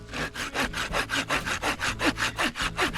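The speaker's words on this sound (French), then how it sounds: "Je l'ai scié en gros morceaux." Hand sawing of wet firewood into large pieces beside a lake, with about a dozen loud, close rasping strokes in a steady back-and-forth rhythm.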